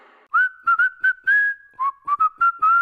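A person whistles a short tune of clear, close notes in quick choppy phrases with one longer held tone, alone against near silence.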